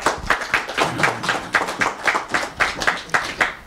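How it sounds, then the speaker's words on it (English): A modest audience claps at a talk on rising Jew hatred in America; the clapping is fairly close and rhythmic, almost in unison, with distinct repeated handclaps and no voices. "I'm going to assume those applause were for me and they were just delayed."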